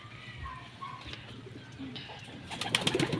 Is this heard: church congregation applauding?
no